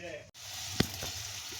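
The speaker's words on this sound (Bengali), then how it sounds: "বেগুনি ভাজার জন্য কড়াইয়ে পরিমাণ মতো রিফাইন তেল দিয়ে দিলাম।" Refined oil hisses softly in a wok (kadai) before frying potato beguni, a quiet, steady sizzle with one brief click and a short dropout.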